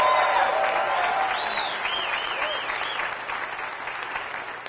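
A crowd at a cycling team presentation gives a sustained, dense round of applause for rider Tejay van Garderen, loud and steady then slowly easing, with cheering and whistles mixed in.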